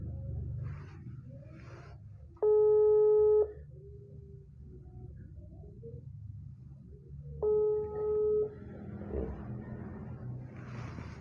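A phone ringback tone sounds during a WhatsApp call-back, with two bursts of steady beeping separated by several seconds of quiet, faint background.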